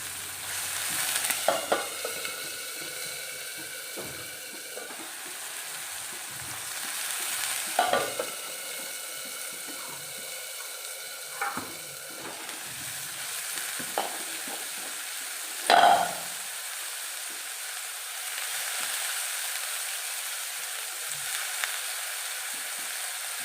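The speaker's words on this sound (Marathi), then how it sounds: "आता मी जरा परतून घेते" Ridge gourd and field beans sauté in a pan over a tempering with curry leaves: a continuous soft sizzle broken by several sharp clanks and scrapes of stirring, with no talking.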